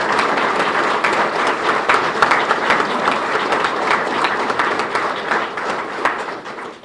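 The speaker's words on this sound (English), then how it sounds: "So if you would, please just give him a round of applause." A room of attendees at a press conference introducing Oklahoma City's new police chief gives a round of applause. Loud, dense clapping holds steady for several seconds and then begins to taper at the end.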